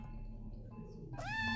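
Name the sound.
cat meowing in video game OFF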